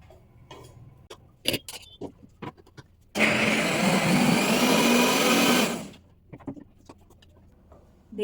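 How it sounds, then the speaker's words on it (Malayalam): A mixer blends a mango cheesecake mixture sweetened with honey in one loud, steady whir of about three seconds, with scattered clicks and light knocks before and after. "ഇതിനൊന്ന് നന്നായി മിക്സ് ചെയ്തിട്ട് ഒന്നുകൂടി ഒന്ന് ബ്ലെൻഡ് ചെയ്യാൻ വെക്കാം"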